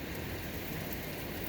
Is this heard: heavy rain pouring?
yes